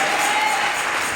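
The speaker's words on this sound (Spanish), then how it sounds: "Si le da palmas al Señor" A congregation at a church service claps steadily for the Lord, a dense and loud wash of applause that fills the room without pause.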